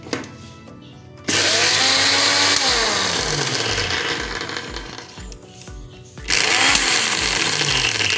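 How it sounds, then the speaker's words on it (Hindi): A mixer grinder coarsely grinding masoor dal roars in two loud bursts, briefly slowing and winding down in between before starting up again. "सबसे पहले मैं ये दाल को मिक्सी में डाल के ग्राइंड कर लेती हूँ।"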